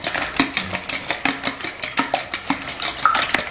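Egg omelette mix being stirred in a bowl, with mortadella and tomato among the ingredients: a fast, steady run of light utensil clicks and scrapes against the bowl, close and continuous, with no talking.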